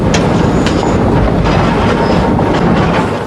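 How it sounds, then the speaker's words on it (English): A passenger train runs on its rails with a loud, steady rumble and rattle, broadband clatter and faint clicks continuing throughout, heard from on board with no talk. "The train stopped for the umpteenth time to pick up passengers."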